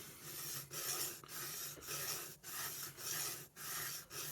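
A Spyderco knife edge is sharpened with regular rasping strokes, seven or eight quiet, evenly spaced scrapes separated by short pauses.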